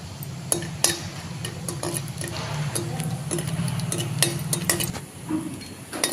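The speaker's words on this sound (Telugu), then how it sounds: "ముందుగా ప్యాన్ పెట్టుకొని నెయ్యి వేసుకుందాం తర్వాత జీడిపప్పు వేసుకొని ఫ్రై చేసుకుందాం" Cashews fry in ghee in a pan under a steady low sizzle, with frequent close clicks and taps of a spoon against the pan at an uneven pace and no talk.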